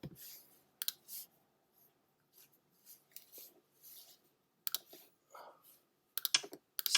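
Calculator keys are pressed one by one as numbers are entered, giving sparse, light plastic clicks and taps close by, with short quiet gaps between presses.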